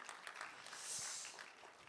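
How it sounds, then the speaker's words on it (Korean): An audience applauds the chapel worship band at a Gimcheon University chapel service, a steady, even wash of clapping lasting about two seconds with no voices. "채플 찬양단께 다시 한번 큰 박수 보내주시기 바랍니다."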